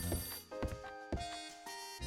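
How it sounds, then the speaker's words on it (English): A telephone rings in the video game Last Window: The Secret of Cape West, a chiming electronic ring repeating in short bursts among layered game music tones, with no talk over it. "It's the phone again."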